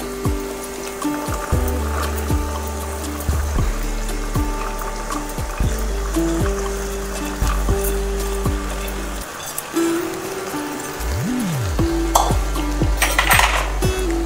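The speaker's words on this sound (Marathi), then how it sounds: "आता कापून घेतलेली भेंडी टाकायची आहे।" Chopped okra tumbles into a pan and is stirred with a metal spoon, giving scattered clinks and scrapes against the cookware over a low steady background, with no voices.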